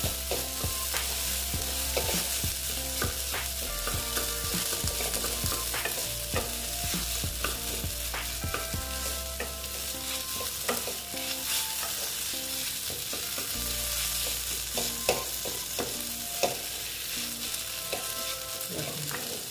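Mashed potatoes are stirred into semolina frying in a pan, with a constant close sizzle and frequent scraping, tapping spoon strokes that go on steadily throughout.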